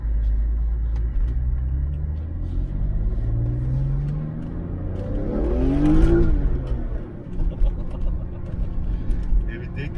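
A BMW E46 M3 engine with its exhaust, rumbling and climbing through a rising rev that peaks then drops back to a lumpy idle, heard at moderate distance with some background noise.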